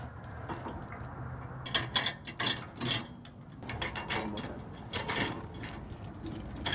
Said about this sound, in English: First, you're going to crisscross the chains. And then you route them through the holes that are in the hitch.